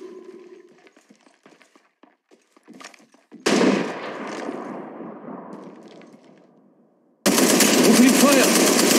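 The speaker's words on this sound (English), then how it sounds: "Opening fire." Automatic weapon fire in the video game Apex Legends: after some light clicks and taps, two loud sustained bursts of rapid gunfire ring out, the second one harsh and continuing to the end.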